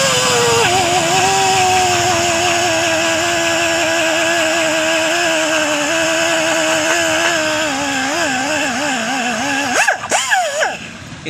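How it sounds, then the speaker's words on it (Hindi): Power tool grinding a rubber inner tube of a 2.75-18 motorcycle tyre to roughen it for puncture repair, a loud steady whine that wavers slightly in pitch, running continuously and dipping unevenly near the end. "इसकी घिसाई कर ली, अब दूसरी वाली जगह की घिसाई करनी है।"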